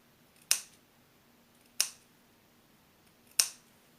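Scissors snip three small notches into a half-centimetre seam allowance, each a single sharp, close click spaced more than a second apart over quiet background.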